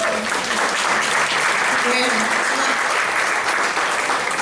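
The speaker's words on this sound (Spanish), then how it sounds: "Un aplauso por Lidia, que te bendiga" A church congregation applauds for a woman during a Spanish-language evangelical service, a dense, steady wash of clapping that fills the whole stretch at full volume, with faint talk underneath.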